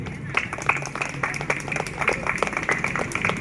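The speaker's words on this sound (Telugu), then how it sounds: "క్లాప్స్ అండి" Audience applause for Bharatanatyam dancers at a Sri Rama Navami pandal, steady dense clapping from a nearby crowd lasting throughout, with a faint murmur of voices underneath.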